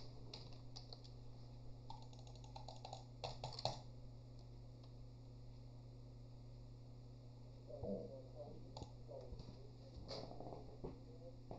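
Bursts of typing on a computer keyboard while playing Pac-Mania on a C64/Amiga, light clustered key clicks near the start and again later, over a steady electrical hum in a quiet room.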